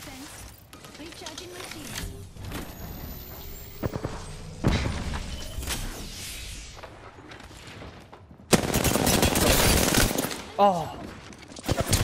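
Rapid automatic gunfire from a weapon emptying its whole magazine in Apex Legends, loud and close in bursts through the clip, with a brief exclaiming voice on top.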